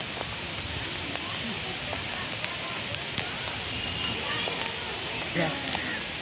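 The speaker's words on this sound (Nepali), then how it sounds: "पानी परिरहेछ" Steady rain pours down, a dense continuous hiss with scattered drips and patters close by, loud and unbroken throughout.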